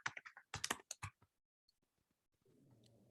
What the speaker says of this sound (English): as you start typing it, it should come up